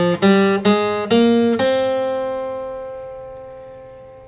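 An acoustic guitar picks a short ascending minor-scale run, five distinct notes at a steady pace, close and bright, with the final note sustaining and slowly decaying over a few seconds.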